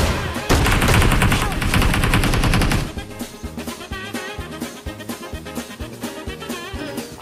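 Gunfire in PUBG Mobile: a dense, loud volley of rapid shots fills the opening seconds, then gives way to steady, rhythmic game background sound with sharp pulses.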